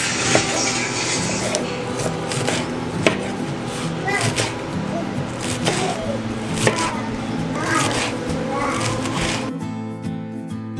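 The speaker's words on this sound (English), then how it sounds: "So we've got those radish tops. We're gonna cut those up for eggs." Radish tops being chopped with a knife on a cutting board in a home kitchen, a steady run of quick close knocks with some louder strikes, ending in a short tonal beep.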